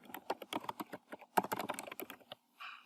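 Rapid typing on a computer keyboard, close and crisp, in uneven bursts of key clicks with a short pause midway, no talking.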